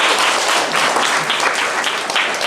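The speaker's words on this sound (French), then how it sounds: "Applaudissez bien pour nous." A dense, continuous wash of audience applause at a performance in Burkina Faso, loud and close, with no talking over it.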